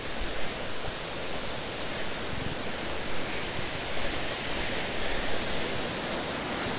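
A constant wash of falling water from Lilydale Falls, Tasmania, fills the forest walking track above the cascade, an even, dense roar with nothing else standing out.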